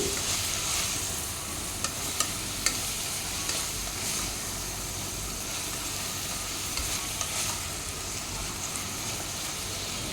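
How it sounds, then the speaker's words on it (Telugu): Carrots frying in a pan for moong dal pulao, a dense steady sizzle up close with occasional sharp clicks of a utensil stirring against the pan, no voices. "క్యారెట్ని అంతా మగ్గించుకోవాలి ఒక రెండు నిమిషాలు వేయించుకోవాలి"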